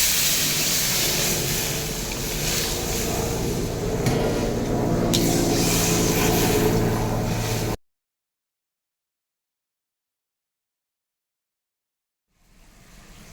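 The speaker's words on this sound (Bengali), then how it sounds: "ঝোল ফুটিয়ে এসছে" Egg curry gravy made with duck eggs bubbling in a pan, a broad steady simmering hiss with soft bubbling for several seconds, then silence before faint sound returns.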